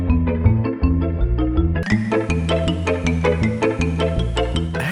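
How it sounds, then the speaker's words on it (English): Jail theme music from the LEGO Island video game, a looping tune that plays twice, first in a duller lower-sample-rate version and then in a brighter, crisper higher-rate version, steady and continuous with no talk. "Listen to the jail theme in both formats."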